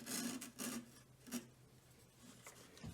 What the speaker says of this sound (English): use some sandpaper, like 400 grit or 320 grit sandpaper, and sand the edges